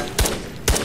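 Two loud gunshots ring out in the Ghosts of Tabor video game, spaced about half a second apart, each a sharp close crack with a brief tail, alone without talk.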